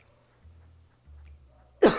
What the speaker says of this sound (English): The cough just sneaked up on me.